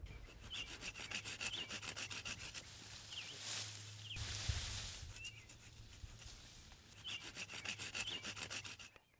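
Lightweight tree branches are pruned with a hand saw in a garden, giving bursts of fast, rhythmic rasping strokes close by, separated by a short quieter pause with a soft thump.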